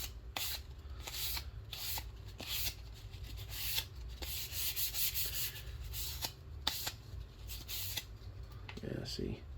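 Sandpaper of 320 grit rubbing over a model rocket body, a steady dry scratchy stroking with repeated short strokes, close and fairly quiet, with a brief voice near the end.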